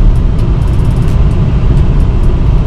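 A car driving on the road makes a steady, loud low rumble of engine and road noise from inside the vehicle, constant throughout, with faint light ticking sounds on top.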